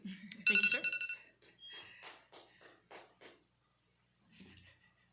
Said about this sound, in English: Madam Mayor, the timer has ran out.